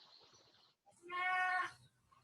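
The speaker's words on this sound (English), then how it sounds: "You can hear him meowing." A single drawn-out cat meow, fairly close and clear, preceded by a quiet stretch with faint background murmur.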